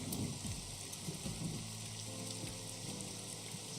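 Steady rain in the video game AI: The Somnium Files fills the scene with a dense, even hiss of falling drops and soft patters, continuous and moderately loud with no talk.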